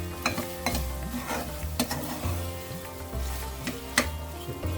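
Aromatics fry in a pan for chicken korma, a soft steady sizzle broken by repeated scraping and stirring strokes from a spoon against the pan, close up and with nobody talking.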